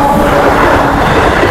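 A train passes close by near a mango orchard, a loud, continuous rumble of wheels and carriages rolling steadily with faint rhythmic clatter and no voices over it.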